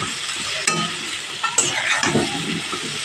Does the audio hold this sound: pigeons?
no